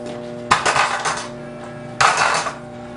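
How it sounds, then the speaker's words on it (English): Loose parts on a scooter, from wheels to headset, rattle and clatter as it is dropped in two short bursts, a jangling metal shake followed by a pause and then another rattling burst. "an example of a non-dialed scooter would sound something like this"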